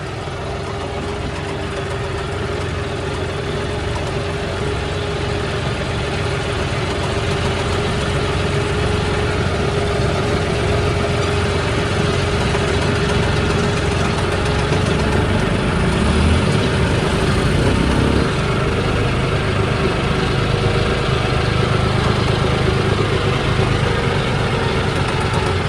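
Heavy tractor loaded near 20 tonnes rumbling steadily as it creeps down a steep ghat road at night, a continuous loud, low engine drone with no talk.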